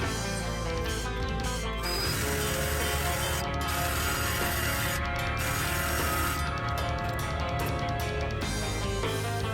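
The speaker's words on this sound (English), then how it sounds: "Let's put the screws in." Screws are driven into a wooden canoe strongback with a power driver, a steady close mechanical whirring and ratcheting that runs almost continuously and fairly loud, with no speech over it.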